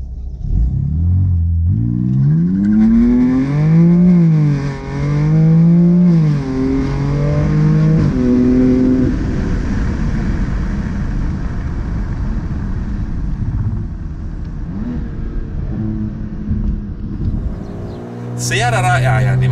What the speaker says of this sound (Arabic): خليني افاجئكم على تجربه التسارع